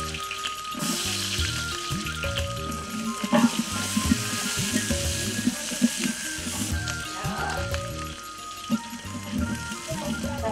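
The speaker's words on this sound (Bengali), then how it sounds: "দিয়েছিলাম কাঁচা রসুন, এখন রসুনটা একটু ভেজে দিই" Raw garlic fries in a pan of winter-vegetable fish curry, a steady loud sizzle with stirring scrapes and occasional clanks, while people talk nearby.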